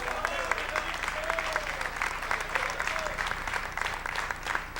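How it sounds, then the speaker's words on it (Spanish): A church congregation applauds in praise, a dense, sustained wash of clapping throughout, with voices calling out and a few raised shouts mixed into the crowd. "Ese aplauso de alabanza para el Señor."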